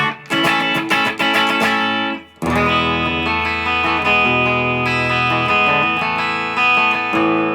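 Bright, trebly Gordon Smith Classic T Deluxe electric guitar on the bridge pickup playing strummed chords and then ringing sustained notes, loud and clean with a brief pause partway through.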